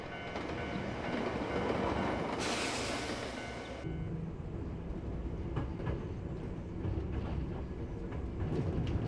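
A train passes a level crossing bound for Fujisawa in an anime scene, its wheels clattering in a steady clickety-clack with a brief burst of hissing rush, the sound carrying on at moderate distance with no voices.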